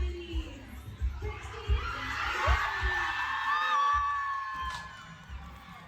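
A crowd at a high school prom reacts to an arrival with excited shouting, screams and whoops, a dense, lively roar with a thumping bass beat underneath.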